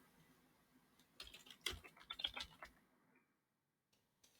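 Quick bursts of keystrokes on a computer keyboard, a short cluster of clicks near and moderately loud, then quiet with a couple of isolated taps at the end.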